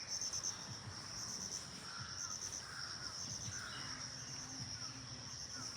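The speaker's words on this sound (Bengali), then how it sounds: "আজকে একটু বেশি আওয়াজ পাওয়া যাচ্ছে কাকের।" Several crows cawing at a distance in repeated short calls over a steady bed of cricket chirping, faint and outdoors, with no one speaking.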